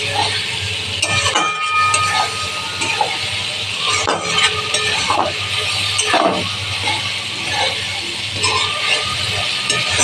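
Spice paste for a rohu fish curry fries and is stirred in a pan, with a steady sizzle and repeated scraping and clinking of a utensil against the metal, loud and close throughout.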